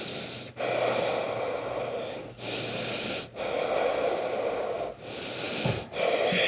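Slow, audible breaths drawn in and out during a held forward-fold yoga pose, several cycles with short pauses between, close and fairly quiet with no talking.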